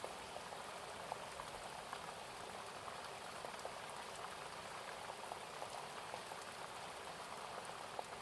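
Rain falls steadily and evenly, a continuous soft hiss with light pattering drops and no pauses.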